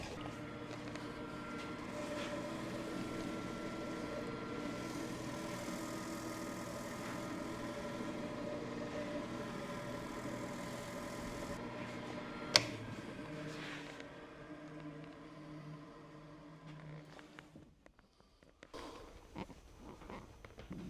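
A wood lathe runs steadily while finish goes onto a turned insert for a trumpet lamp, a continuous hum with faint ticking, one sharp click midway, then the motor winds down and stops near the end.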